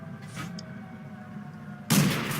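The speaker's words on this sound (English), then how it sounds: "But then I spot the M7 Priest again and put a shot into him, ending his game." A tank gun fires in World of Tanks, a single sharp, loud boom near the end that rings briefly, preceded by the low, steady rumble of the tank's engine.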